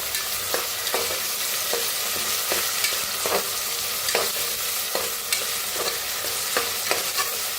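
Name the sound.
frying garlic, ginger and green chili paste in a pan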